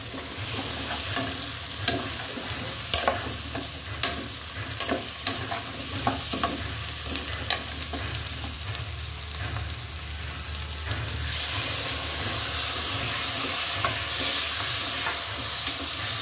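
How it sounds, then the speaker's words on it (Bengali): Taro stir-fried with spices and dried shrimp in a pan, a continuous close sizzle punctuated by rapid spatula scrapes and clicks that fade into steady frying toward the end. "কচু সহ আমি কিছুক্ষণ মশলাগুলোকে, চিংড়ি শুটকিকে কষিয়ে নেব।"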